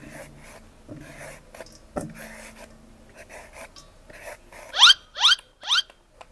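Green papaya scraped into strands for som tam, giving soft rasping rubs and scrapes up close, followed by three louder rhythmic scraping strokes near the end.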